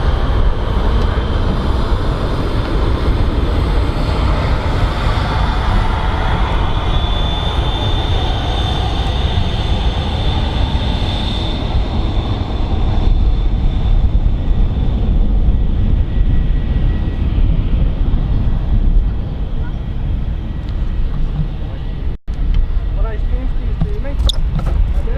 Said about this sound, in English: Ryanair taxiing past as well.